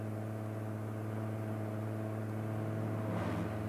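A car pulls away through a green light on a street, its engine a steady, low, tonal hum heard from inside the vehicle, fairly quiet with a slight rise near the end.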